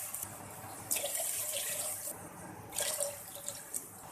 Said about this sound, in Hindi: अब हम इसमें 3 गिलास पानी शामिल कर देंगे।